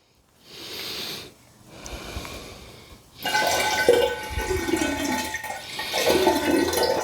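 Fermenting homebrew liquid from a yeast nutrient experiment is poured back into its vessel: a short gurgling pour, a pause, then a louder sustained splashing pour that continues with slight surges, up close.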